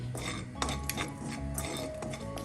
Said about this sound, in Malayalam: പെരുംജീരകം ഒരു ടീസ്പൂൺ ആൻഡ് ചെറിയ ജീരകം അര ടീസ്പൂൺ ഇതെല്ലാം കൂടെ ചേർത്ത് നന്നായി ഒന്ന് ഇളക്കാം